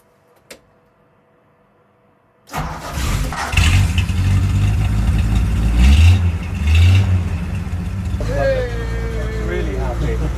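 An MCR21 engine cranks and catches after a short silence, then runs loudly and steadily with a rough, throbbing note that rises briefly at times.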